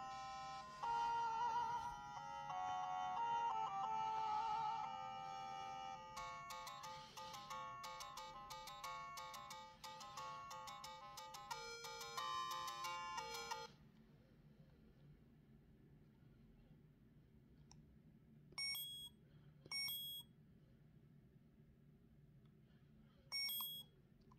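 First Zelda game music from a Zelda Game & Watch, thin bright chiptune melody with beeps, faint small-speaker sound, then a quiet pause with a few isolated bleeps.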